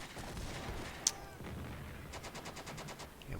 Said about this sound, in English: Lots of incoming fire here from MG42s